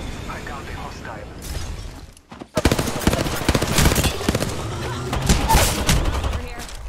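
Rapid automatic gunfire in the shooter Apex Legends rattles loudly after a brief silent gap, bursts of shots crackling over game effects, with voices talking over it.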